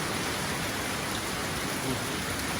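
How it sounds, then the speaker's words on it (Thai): Steady rain pours down outdoors, a dense, even hiss that holds without a break, with a faint low rumble underneath and no voices. "ฝนตก"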